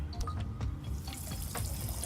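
Water running from a kitchen tap in a video game, a steady close splashing stream into a sink, brief and continuous with no talking.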